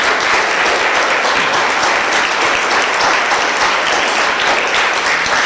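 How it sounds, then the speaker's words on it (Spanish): A church congregation applauds loudly and continuously, a dense, sustained wash of clapping from many hands filling the room without a break. "Vamos a dar un aplauso al Señor."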